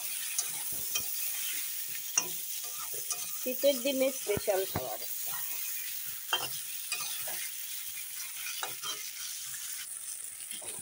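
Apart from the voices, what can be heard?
brinjal slices frying in oil with salt and turmeric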